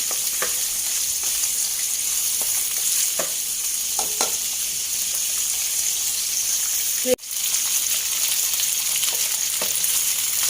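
Pork leg pieces fry in oil with a continuous close sizzle and crackle, scattered spits and pops, and one sharp knock partway through.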